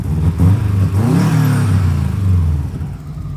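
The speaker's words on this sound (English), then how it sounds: "Do one more, do a high rev." A Subaru WRX with a blob-eye front sits close by as its engine is revved, rising into a loud, throaty burst then dropping back to idle.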